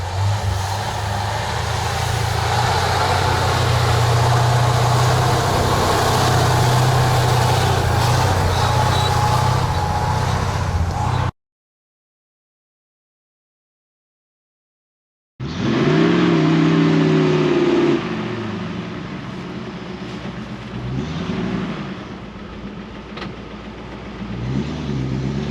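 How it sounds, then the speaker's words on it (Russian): A Soviet-era KrAZ truck drives through a deep, dried-out rut on a muddy track, its heavy diesel engine droning loud and close, then a gap of silence before the engine labours and revs again under load. "Видите, Крас справляется с этим препятствием тоже на ура."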